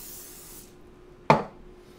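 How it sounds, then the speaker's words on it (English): Cooking spray hits a sheet tray in one sharp, short burst, loud and close, following a fading hiss and then quiet. "so let's get some spray in our sheet tray."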